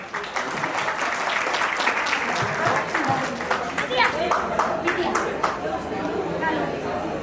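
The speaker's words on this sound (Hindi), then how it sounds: "अरे यार तालियां तो दो" Guests at an engagement party clap together, a busy stretch of scattered handclaps mixed with chatter and voices talking over it, fairly loud and close throughout.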